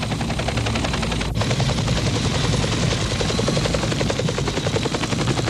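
Loud, steady rhythmic thumping of helicopter rotor blades overhead in the Mekong Delta in 1965, continuous and close, filling the whole stretch.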